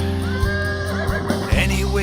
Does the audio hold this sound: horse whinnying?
yes